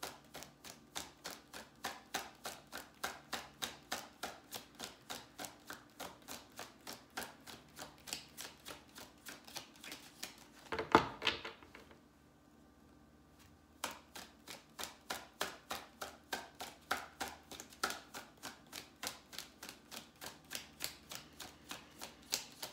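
A deck of tarot cards being shuffled by hand in a steady, fast rhythm of soft slapping clicks, broken once by a louder flurry and a short quiet pause before the even rhythm resumes; no talk.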